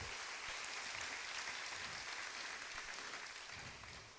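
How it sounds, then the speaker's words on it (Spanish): A church congregation claps together during a sermon, a soft, distant, continuous patter that fades slightly toward the end, with no voices over it. "Denle un aplauso al Señor"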